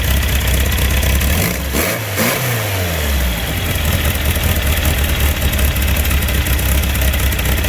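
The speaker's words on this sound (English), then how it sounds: "Got a bit of an exhaust leak." A car engine with an exhaust leak runs loudly and close, with a rough, raspy exhaust rattle and a brief rev midway, no voices.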